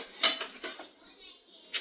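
Pots and metal utensils clink and knock while tea is being made in a home kitchen, with a few bright, close clatters spaced apart and quiet gaps between them.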